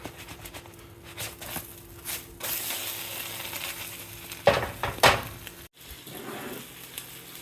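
An egg sizzles steadily in a frying pan, then a couple of sharp scrapes and knocks as it is flipped, with the frying crackle continuing afterward.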